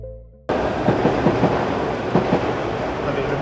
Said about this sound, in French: Le métro, il passe tout le temps ici.